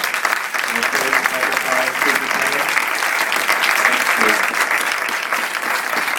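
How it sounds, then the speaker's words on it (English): An audience applauds guests after a panel discussion, a full burst of many hands clapping that rises quickly and holds steady, with some crowd murmur mixed in. "let's give a round of applause to our guest"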